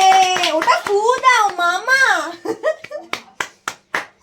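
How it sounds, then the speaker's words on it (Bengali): Hand clapping at a child's birthday: a voice sings first, then several sharp, evenly spaced claps ring out close by, with a child's speech overlapping the beginning. "আরেকটু হাততালি হাততালি দাও"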